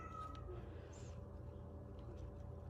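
A house cat gives a faint, brief meow or two indoors while someone tends microgreen trays, set against a quiet background.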